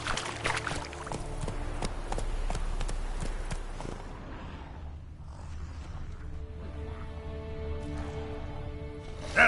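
Roach the horse gallops through The Witcher 3's war-torn countryside, hooves clip-clopping in a steady run under game music and ambient noise, loudest early and then fading into a softer trot.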